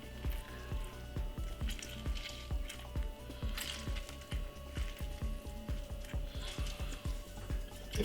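A small juicer machine works on half a lemon, a steady mechanical grinding whir with rapid, regular ticking pulses and a wet squelching texture that runs throughout, close and continuous.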